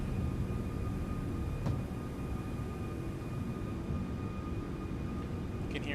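Jet engines of an Airbus A340-600 climb out in X-Plane 12 as a steady, broad roar with a faint whine tone, continuous and even throughout, with no talking.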